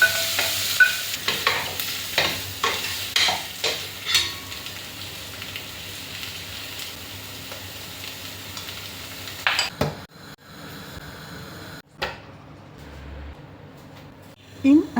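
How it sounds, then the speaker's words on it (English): Boiled eggs are stirred and fried in masala in a pan, a series of rhythmic scraping and sizzling strokes over a soft frying hiss that thins out later, with scattered clatters of utensils. "Place the boiled egg into the pan and gently coat them with the masala. Fry for a minute"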